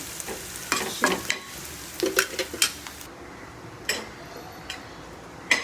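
Onion roasts in a pan for village-style chicken curry, with a soft background sizzle and intermittent spoon clinks and scrapes against the pan, close by and without speech.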